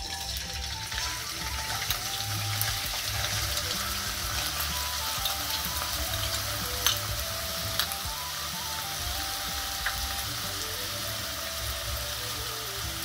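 Carrots frying in oil in a wok for vegetable fried rice, giving a steady soft sizzle with occasional small pops, fairly quiet and continuous without any talk.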